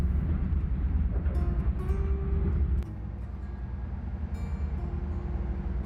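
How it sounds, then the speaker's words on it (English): A train runs steadily in Microsoft Train Simulator, a continuous low rumble and rolling rail noise with faint clicks, dropping slightly in level partway through, with no talk. "See, isn't this a beautiful train ride?"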